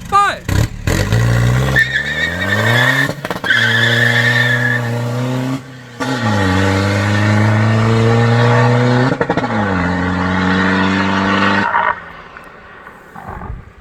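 A remapped Isuzu D-Max pickup launches hard with loud tire squeal, its engine revving and roaring in rising sweeps, cutting briefly between pulls and ending abruptly, with voices faintly underneath.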